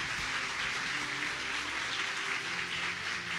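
A church congregation at a Good Friday service claps together in steady, continuous applause, a dense wash of hand claps sounding somewhat distant and even throughout.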